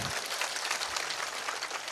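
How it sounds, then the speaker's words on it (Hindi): A crowd at an outdoor political rally claps steadily, a dense, even patter of many hands that holds at one level throughout, with no voices over it. "उसके लिए एक बार जोरदार तालियां बजा दो"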